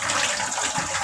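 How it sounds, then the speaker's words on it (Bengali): Tap water pours and splashes into a bathroom basin as it is rinsed clean, a brief, close, steady gushing rush. "এই যে আমাদের বেসিনটা একটু ধুয়ে দিই"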